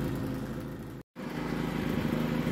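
A Pulsar 3200W propane-gas dual fuel inverter generator idles roughly, its steady engine drone loud and close, broken by one brief dropout before running on unevenly.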